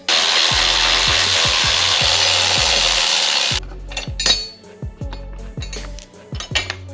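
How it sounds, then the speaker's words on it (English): Two 12mm bolts backed out of the rear fender of a 2019+ Yamaha R3, a loud close rapid ratchet clicking for several seconds, then sparser clicks and handling knocks, no talk. "now we're going to take these two out. These are two 12mm bolts."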